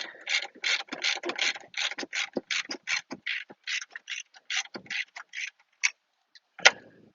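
A ratchet loosens a part on an Audi A4 B8 2.0T, making close, rapid clicking bursts in quick strokes that slow and thin out into a few last clicks.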